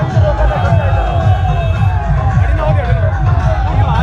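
Large crowd gathered at a politician's rally in Salasar, a loud, steady outdoor hubbub of many voices, with someone talking prominently over the crowd noise.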